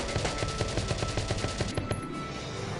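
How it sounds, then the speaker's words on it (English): A machine gun fires in a video game: a rapid, steady stream of loud shots, close and continuous, that cuts off near the end with no talking. "now I get to use the machine gun"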